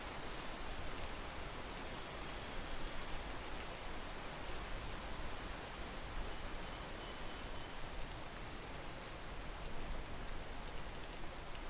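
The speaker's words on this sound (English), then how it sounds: "Wait for the rain to pass." Steady rain falls in the video game Peak, a dense, even hiss of drops pattering on surfaces, constant and unbroken with no voices.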